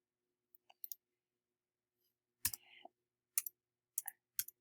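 Computer mouse clicks while editing a document in Microsoft Word: a handful of sharp, close clicks, some in quick pairs, separated by near silence in a quiet room.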